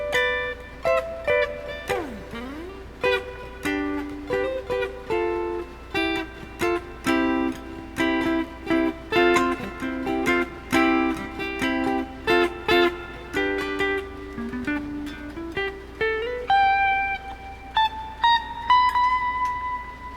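Electric guitar plays the chorus lick of a song: a continuous run of bright picked single notes and bends over about twenty seconds, close and unaccompanied, ending on sustained high notes.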